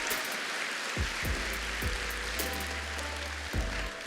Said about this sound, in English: Everyone give them a round of applause real quick.